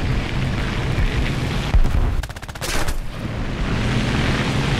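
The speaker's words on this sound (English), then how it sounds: "A few shots in here and there." Aircraft guns in War Thunder fire short bursts of rapid shots for about a second over a steady roar of engine and wind, from a Nimrod Mk II in an air arcade battle.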